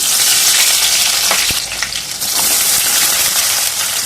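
Cloves, bay leaves, cumin, mustard seeds and green chilli fry in hot coconut oil, a loud dense sizzle that crackles steadily throughout, with a few brief stirring scrapes.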